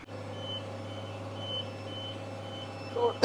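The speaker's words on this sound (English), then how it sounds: "the dang beeper cuts on as soon as I turn the camera on" A reversing beeper on a John Deere tractor during hay cutting gives faint, intermittent tones inside the cab over a steady low engine hum.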